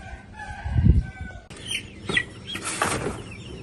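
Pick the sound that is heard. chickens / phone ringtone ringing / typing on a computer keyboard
chickens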